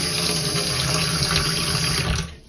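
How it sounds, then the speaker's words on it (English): Water runs steadily from a tap as dyed non-superwash yarn is rinsed under it, a loud, continuous rushing splash close by that carries on unbroken before easing off at the very end. "going to have to give this a rinse through a few times until the water runs clear"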